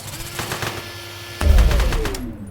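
Machine gun fire in a cooperative heist video game, a rapid stream of loud gunshots, then a heavier burst of close automatic fire with a deep thump.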